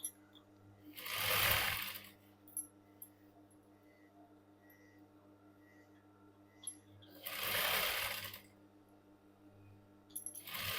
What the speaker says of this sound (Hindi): यहाँ से भी मैं स्टिच अटैच करूँगी।